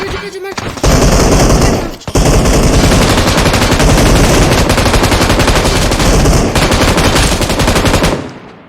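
Submachine gun fire in a video game, a dense, loud continuous burst of rapid shots lasting several seconds with a short break near the start, filling nearly the whole stretch.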